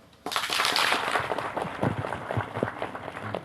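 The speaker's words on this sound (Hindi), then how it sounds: "उसके लिए जोरदार ताली मारें।" Loud applause from a church congregation starts abruptly and holds as dense, steady clapping before thinning slightly toward the end.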